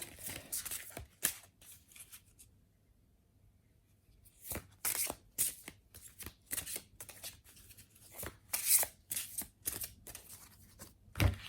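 Oracle cards shuffled by hand before one is drawn: quick papery riffles and slaps in irregular bursts with a quiet pause early on, close and soft, no talk.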